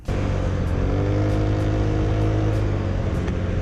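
An Italjet Dragster 200 scooter engine accelerating, a steady loud close drone whose pitch climbs throughout.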